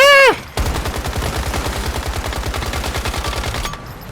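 Rapid automatic gunfire in the video game Once Human, a loud, close, evenly spaced burst of shots lasting about three seconds, preceded by a short vocal exclamation.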